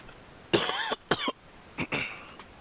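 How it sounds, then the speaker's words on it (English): A person coughs in three separate bursts, close to the microphone in an otherwise quiet room. "I keep coughing"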